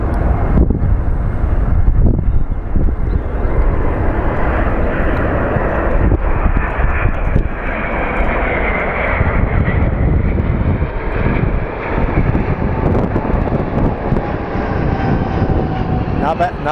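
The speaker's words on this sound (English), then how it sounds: "I believe this is a UPS MD-11 coming in from Louisville." A UPS MD-11 cargo jet approaching to land at Phoenix Sky Harbor International Airport, arriving from Louisville, produces a loud, continuous engine roar mixed with wind buffeting the microphone throughout.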